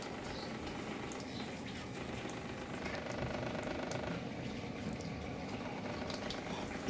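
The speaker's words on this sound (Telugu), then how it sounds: "చూడండి మోటార్ ఆన్ అయింది, మనకు ఆ వైబ్రేషన్ వస్తుంది చూడండి." RO water purifier booster pump motor running after replacement, a faint steady whirring hum with watery bubbling and vibration, close and continuous with no talk.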